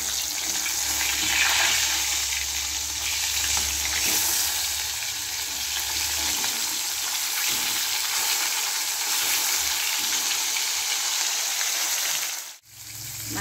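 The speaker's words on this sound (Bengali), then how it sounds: "মাছ ভাজাগুলো হয়ে গেছে" Silver carp pieces fry in hot oil with a loud, steady sizzle that continues almost unbroken, with a brief dip near the end and no talking.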